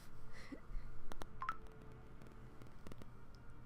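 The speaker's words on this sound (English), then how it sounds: "That's just my phone going off." Several short electronic notification tones from a phone receiving Snapchat snaps, quiet, scattered blips over a low background hum.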